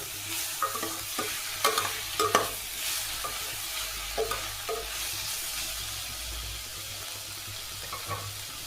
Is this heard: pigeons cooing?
no